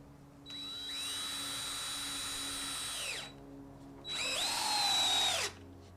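A power drill drives screws into wood while a table top stand is built for a screen printer and flash dryer: two whining bursts, a long one then a shorter one, close and loud, with no talking.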